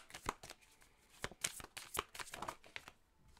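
Tarot cards shuffled by hand, a quick run of crisp riffling flicks and soft slaps, close and quiet with no talk.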